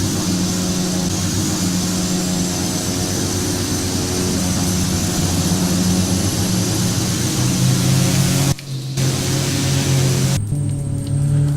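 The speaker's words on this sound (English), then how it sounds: "Just move that forward. And that should get the left engine going." Twin turboprop engines of a Piper PA-31T spooling up in the Prepar3D flight simulator: a loud, steady droning whine with layered tones that cuts briefly around the ninth second, then returns as idling continues.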